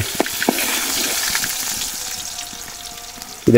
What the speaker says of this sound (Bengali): তেল দেওয়া হচ্ছে চুলায়, এখন মাংস রান্না হবে।